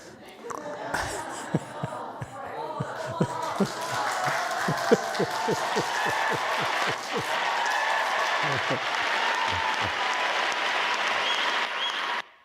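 Audience applause rising from scattered claps into a steady, dense round of clapping that fills the room and then fades, with speech over the start.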